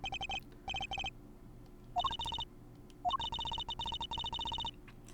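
A cell phone ringing in Apollo Justice: Ace Attorney, bursts of a bright electronic beeping ringtone repeating in quick pulsed groups, with short gaps and a rising chirp between them.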